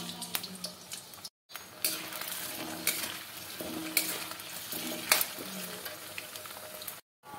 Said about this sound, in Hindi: ऑयल गर्म है तो आलू को फ्राई कर लेते हैं।